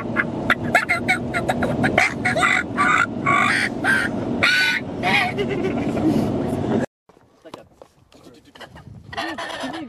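A slate turkey call worked by hand to imitate two agitated hen turkeys, giving rapid scratchy yelps and clucks in close bursts with people talking over and between them, then a brief drop to near silence before quieter sounds resume.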